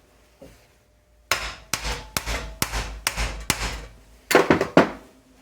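A hammer drives a U-joint using sockets: a single light tap, then a run of about eight sharp, ringing metallic blows, close and loud, ending with a quick cluster of hits.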